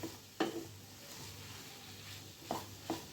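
Masala with tondli (ivy gourd) being stirred in a pan over low-to-medium heat, a soft steady sizzle broken by a few sharp scrapes of the spoon against the pan.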